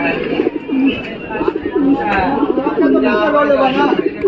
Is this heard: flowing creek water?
no